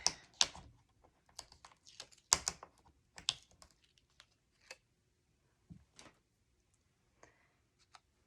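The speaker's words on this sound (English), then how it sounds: "let's take our first tag and peel off the tape" Adhesive tape peeled off a craft tag in a series of short, crisp crackling pulls, the loudest bursts early on and then sparser, fainter ticks trailing off, close and alone with no talking.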